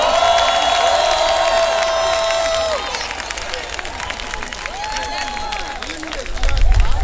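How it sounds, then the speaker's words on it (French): A large concert crowd at the Palais de la Culture keeps up loud, sustained applause and cheering, with whistles and voices rising above the steady roar throughout. "une minute d'applaudissement plus fort"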